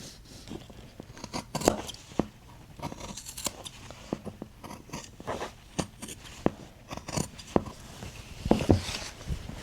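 Scissors cutting pattern pieces out of denim jeans, irregular snips and crisp fabric rustles up close, quiet with occasional louder cuts and no talking.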